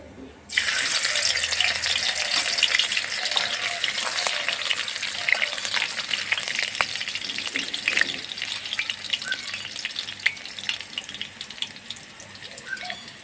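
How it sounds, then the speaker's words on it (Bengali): Whole cumin and crushed garlic cloves sizzle steadily in hot oil for a Bengali red amaranth (lal shak) dish, a loud dense frying hiss that starts abruptly and continues without voices. "ফোড়নে দিয়ে দিব গোটা জিরে কয়েক কোয়া থেতু করা রসুন"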